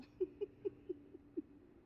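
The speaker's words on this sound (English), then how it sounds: "You hear the birds?" Outdoors in Playa del Carmen, Mexico, a bird gives five short, low, evenly spaced calls, soft and steady against a quiet background.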